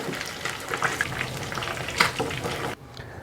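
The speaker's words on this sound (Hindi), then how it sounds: "ये हमारी जो फ़िश है ये फ्राई हो चुकी है, इसको मैं अभी निकालती हूँ" Fish sizzling in hot oil in a pan, a close crackling fry with a few sharper clinks and scrapes as pieces are lifted out, then the sizzle suddenly drops to near quiet.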